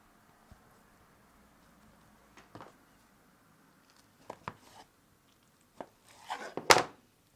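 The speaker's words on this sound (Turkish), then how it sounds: "bıçakla üç'e bölelim." A knife cuts dough into three pieces, making a few quiet, sparse thuds and taps on a board, with a louder cluster of cuts at the end and near silence between them.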